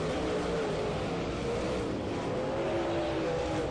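Late model race cars circle a short oval speedway, their engines a continuous droning roar with shifting pitch as the pack passes at a distance, with no talk.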